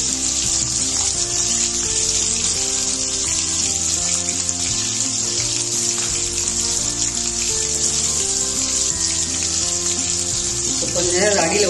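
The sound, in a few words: anchovy fish frying in oil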